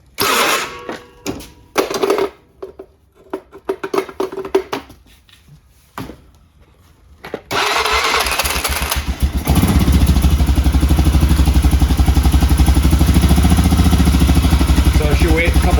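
Polaris Sportsman ATV engine cranks over after a stretch of quiet clicking and handling, then catches and settles into a loud, steady idle that runs alone for the rest of the clip.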